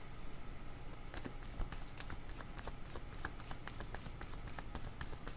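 Tarot cards shuffled by hand in a steady stream of soft, rapid flutters and light slaps, close but fairly quiet against a low background hiss, with no talking.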